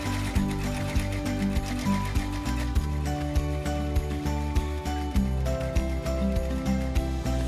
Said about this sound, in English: we will continue to run the tack down stitches